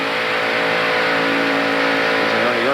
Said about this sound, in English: Inside Morgan Shepherd's car.